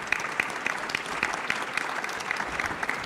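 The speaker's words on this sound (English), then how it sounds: "An applause for Arne." Applause from a seated audience at a medical award ceremony, moderately distant, steady clapping with faintly audible individual claps through about three seconds, with no talk over it.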